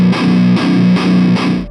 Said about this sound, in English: Go for that tight, palm-muted riff, often simple but heavy, locked in with the drums. Use, of course, high-gain distortion.